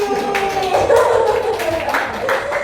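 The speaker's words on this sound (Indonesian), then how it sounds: "Tepuk tangan Pak Muji." Participants in a teachers' mentoring discussion clap for a colleague, a brief scattered patter of hands mixed with speaking voices and tonal background sound.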